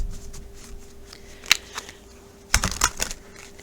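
Oracle cards are handled and shuffled close by: sparse soft rustles, then a few sharp snapping flicks clustered near the end, with no talking.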